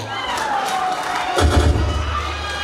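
Wedding guests cheering and shouting for the groom, a crowd roar swelling midway with a low thump, set against music and a few raised voices.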